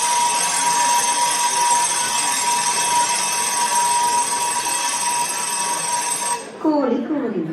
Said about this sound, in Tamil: மன்னிக்கவும், அலாரம் அலறுகின்றது.